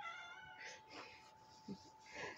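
A pet cat named Oliver meows faintly several times in a quiet indoor room, soft drawn-out mewing calls spaced across a couple of seconds.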